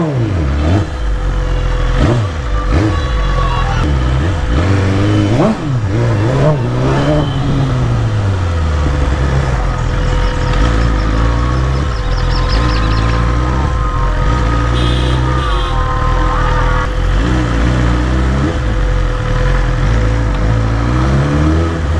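Busy road traffic near Durga Puja pandals, with engines revving and passing vehicles, including a superbike, loud and close over a steady traffic rumble, rising and falling in pitch throughout without talk.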